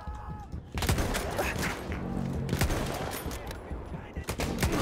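Dense Battlefield 1 gunfire in a WWI multiplayer match: repeated loud shots and rapid automatic bursts crackling throughout, close and sharp, with brief talk mixed in.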